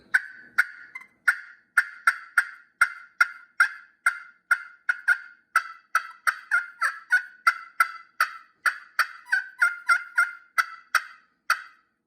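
A hand-operated turkey call imitating an aggressive hen's cutting, a long series of loud, sharp, closely spaced yelps and clucks in a fast, uneven rhythm, heard alone and near.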